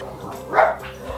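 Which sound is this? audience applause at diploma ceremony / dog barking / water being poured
dog barking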